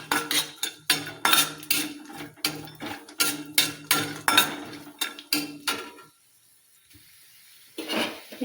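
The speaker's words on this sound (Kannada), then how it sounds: "ಇವನ್ನ ಚೆಂದಾಗಿ ಫ್ರೈ ಮಾಡ್ತೀನಿ ನೋಡ್ರಿ." Ingredients fry in a pan for Ramzan sheer kurma as a metal spoon strikes and scrapes the pan in quick, rhythmic clanks under a soft sizzle, then pauses briefly before the stirring resumes.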